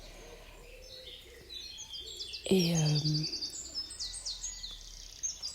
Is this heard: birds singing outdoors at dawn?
yes